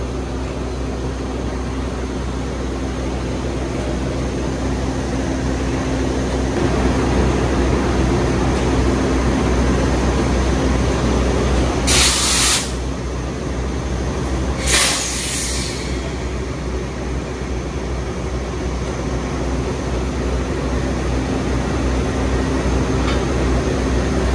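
Taksaka passenger train hauled by a CC 206 locomotive running steadily, a constant low rumble and hum heard from inside, with two brief sharp bursts partway through.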